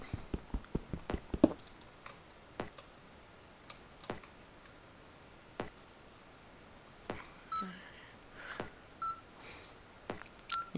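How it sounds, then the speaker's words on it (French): Radar beeps in the video game XCUB: a few short, faint electronic bleeps, preceded by a quick run of sharp ticks and clicks, then scattered clicks with quiet gaps between them. "Il y a un bip sur mon radar."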